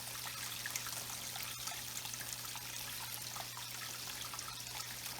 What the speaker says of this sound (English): Now we're going to run it through this sluice.